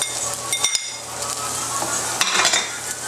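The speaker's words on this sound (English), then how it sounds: "Add the rest of this onion right here." Onion with garlic goes into a hot pan for a shrimp dish, frying with a steady sizzle while a utensil stirs and clinks against the pan in a few sharp taps.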